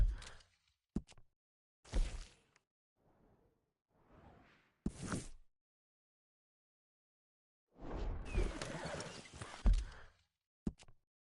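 Horse in a Red Dead Redemption 2-style video game, scattered bursts of hoof clops and snorting with a whinny among them, separated by silences, plus a longer busy stretch of movement near the end.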